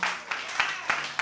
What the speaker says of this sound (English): Give Sabrina another round of applause